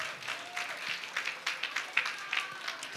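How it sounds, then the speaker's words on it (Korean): Audience in a church gathering clapping together, a short burst of close, lively applause with sharp individual claps standing out, no speech. "박수 한번 하겠습니다."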